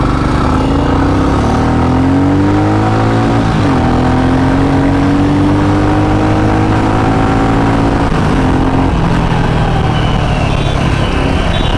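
Two motorcycles, a Jawa 42 and a Royal Enfield Meteor, accelerate hard in a drag race, engines revving loudly and climbing through rising pitch with gear-shift breaks, continuous and close throughout.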